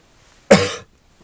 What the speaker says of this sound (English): I am really going to cough a lot